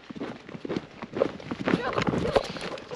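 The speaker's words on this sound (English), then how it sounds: "It's amazing galloping on a horse to Song in Kyrgyzstan." A horse gallops in Kyrgyzstan, its quick, uneven hoofbeats thudding close under wind and background voices.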